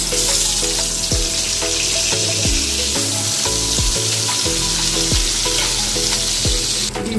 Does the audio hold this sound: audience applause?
no